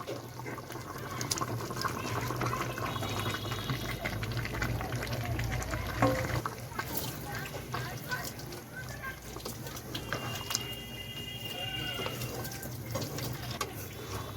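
Fried onion, capsicum and tomato are stirred into a chicken and potato curry in a pan, with a steady wet sizzle, bubbling, and scraping spoon strokes throughout, while a person talks over it.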